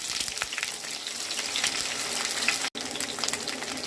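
Chopped vegetables sizzle and crackle steadily in hot oil seasoned with a dried red chilli and nigella seeds, a dense continuous frying hiss close by, broken only by one brief cut near the end.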